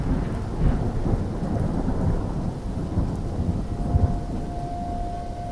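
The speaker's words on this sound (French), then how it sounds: "il y a de la grosse pluie qui nous arrive dessus aussi" Heavy rain pours down outdoors during a thunderstorm in Kyrgyzstan near a river, a steady loud roaring wash with low rumbling underneath and no talk.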